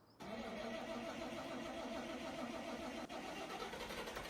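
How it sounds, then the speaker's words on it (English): Tractor engine in Farming Simulator 25 cranking slowly and then catching, followed by a steady, loud running drone that holds for several seconds with one brief dip near the end. "The engine's very slow to start."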